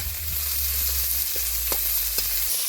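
Tomatoes fry in a little oil with dried fish and onion, giving a constant close sizzle broken by a few soft scraping stirs of the spoon through the pan.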